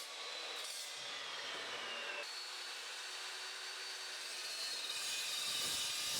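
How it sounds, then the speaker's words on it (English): A 14-inch Evolution S355 MCS metal cutting mitre saw cuts through steel tube with a steady, loud high-pitched whine and grinding rasp that holds throughout, growing slightly harsher toward the end. "this saw makes really light work of cutting the tube"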